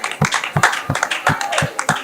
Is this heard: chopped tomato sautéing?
no